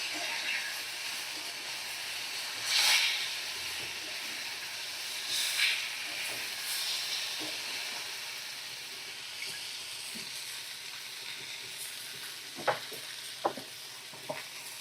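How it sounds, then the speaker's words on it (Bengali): Vegetables fry in a pan with Kashmiri red chili powder for a fish recipe, giving a soft, steady sizzle and hiss. Occasional louder bursts and a few clinks of stirring break through, with no talking. "এই যে কাশ্মীরি রেড চিলি পাউডার দিয়ে ভালো করে আমি কষিয়ে নেব।"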